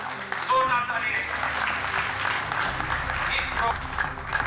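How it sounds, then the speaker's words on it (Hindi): Applause from an audience at a Waqf Board conclave in Jammu and Kashmir, a dense, sustained wash of clapping that carries on steadily under a voice speaking over a microphone. "जोरदार तालियां प्लीज।"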